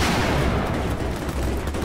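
Dense, loud gunfire and grenade blasts from a Battlefield 4 multiplayer match, rapid overlapping shots and booms forming a continuous roar with no pause.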